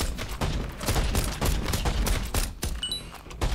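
Pistol gunfire in the top-down zombie shooter Biters & Bullets, a dense run of rapid shots layered with game effects and clatter, loud and continuous for the whole stretch with a few bright pickup chimes near the end.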